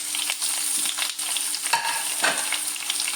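Thinly sliced onion with curry leaves and chilli sautéing in a hot pan, a steady close sizzle broken by scrapes and stirs of the spoon, with no voices.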